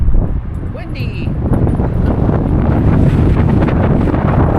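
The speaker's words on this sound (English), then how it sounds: "When the wind comes up, it whips up some dust." Strong wind gusts buffet the microphone at a dusty campsite in Blue Ridge, Arizona, a loud continuous low rumble that swells and roars throughout, with a brief whistle-like tone early on and speech mixed in.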